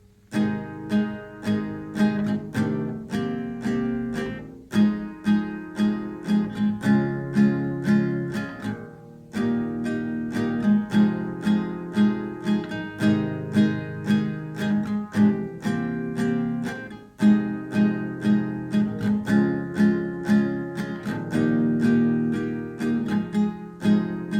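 An acoustic guitar strums the chords of a Valentine's Day song's verse, steady rhythmic down-and-up strokes ringing out loud and alone, with brief pauses between chord changes.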